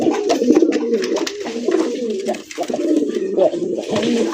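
Domestic pigeons coo repeatedly and loudly close by, rolling throaty calls overlapping one another, with someone talking over them.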